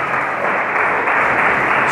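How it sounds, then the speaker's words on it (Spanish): Congregation applauding in a church service, a steady dense wash of clapping that holds at an even, loud level without a break. "Damos un aplauso al Rey de Reyes y su palabra."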